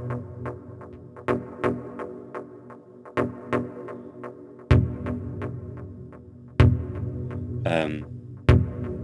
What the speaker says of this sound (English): Here's our all-important delay, or in this case a ping-pong delay with on a third 16th note pattern, medium feedback, medium dry wet.